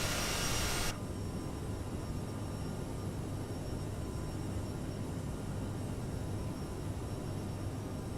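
Steady broadband jet roar from the engines of an Aerosoft CRJ-550 United regional airliner climbing after takeoff in Microsoft Flight Simulator, a constant even rumble with a brief brighter hiss at the start, no voices.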